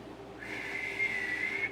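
A human voice imitates a dolphin's whistle, a thin sustained high whistle that rises and holds for about a second, faint against a soft background.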